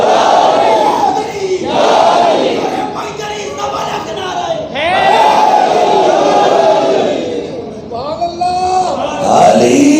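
A big crowd at a religious sermon gathering shouts slogans together, loud unison chants repeating in waves with short breaks, close and filling the space.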